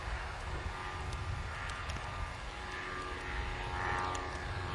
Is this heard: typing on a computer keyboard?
no